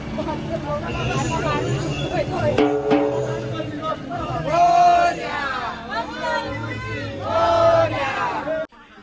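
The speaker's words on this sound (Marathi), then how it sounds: "आणि आता नदीवरती गर्दी बघा किती आहे सगळेजण आता आलेले आहेत तिथं विसर्जनासाठी" A large crowd gathered at a riverbank for a Ganpati idol immersion, with many voices shouting and chanting in loud surging waves over a busy hubbub of chatter.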